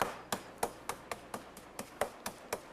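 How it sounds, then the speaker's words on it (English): A pork chop pounded flat with a meat mallet between sheets of plastic wrap: about nine sharp, evenly spaced thuds, close and distinct, with no talking. "The chop is set between 2 pieces of plastic wrap and pounded with a mallet until it's about 1 inch thick."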